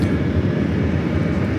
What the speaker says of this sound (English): This is United 2201 taking off to Chicago on the 737-700